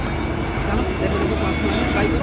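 An aircraft in full landing configuration, gear down and flaps full, passes at the Bray Air Show in Wicklow, Ireland, a loud, steady engine roar filling the air while people nearby talk over it.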